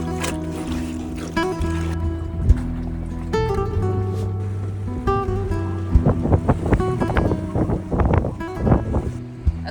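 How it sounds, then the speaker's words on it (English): Strong, steady wind of about 20 knots blows across an anchored sailboat at Isla Coronados, a continuous broadband roar with rigging hum and flapping, closer rattles and knocks building in the second half, with no talking. "the wind picked up. It's blowing consistent 20 now"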